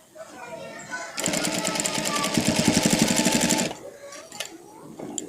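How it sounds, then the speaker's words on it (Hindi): A sewing machine stitches a front welt pocket in a burst of fast, even mechanical chatter lasting a couple of seconds, close and loud, with faint voices and handling noise before and after. "आपने अपनी सिलाई को मुकम्मल कर लेना है"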